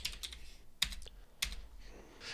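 Quick bursts of typing on a computer keyboard while entering a line of Python code, a few separate clusters of keystrokes with short pauses, close and clear with no talking.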